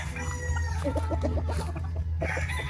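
Chickens and roosters, including a white and a gray yellow-legged fowl, cluck in a rapid run of short calls, close and clear over a steady low background hum.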